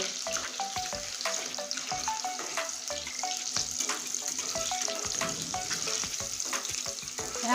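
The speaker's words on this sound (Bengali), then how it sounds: "এই গোটা রসুনটা লাল লাল করে ভেজে নেব" Whole garlic cloves frying in hot oil for a chicken curry, a dense continuous sizzle with stirring and scraping sounds against the pan, steady and close throughout.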